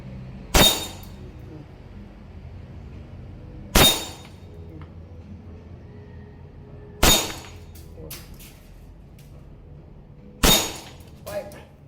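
Four sharp, loud shots from a WE Hi-Capa 3.8 green gas airsoft pistol, spaced a few seconds apart, each with a brief clattering ring of the target breaking, in a quiet setting.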